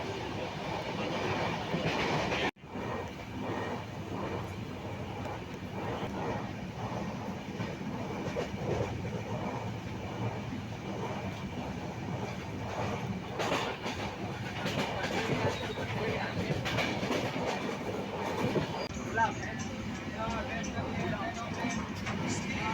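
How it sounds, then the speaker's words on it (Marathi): A train between Kudal and Mumbai rumbles steadily at speed with continuous rattling and rhythmic wheel clatter, heard from inside a carriage, with voices faintly in the background. "ट्रेनने चांगला स्पीड पकडला होता"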